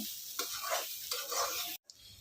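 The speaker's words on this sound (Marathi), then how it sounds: "हे बघा मी तुम्हाला दाखवते कढाईमध्ये फोडणी द्यायचं कारण आपला तांदूळ ना अशा प्रकारे भाजला गेला पाहिजे" Rice pulao with soybean chunks is stirred and fried in a kadhai with tempering, giving steady sizzling broken by scraping strokes of the spoon, close and fairly loud, with a brief cut near the end and no talk.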